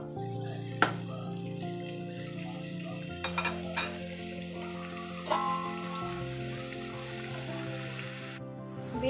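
Potato pieces sizzle in a pan for aloo posto, a steady low frying hiss with occasional clinks and scrapes of a utensil stirring against the pan.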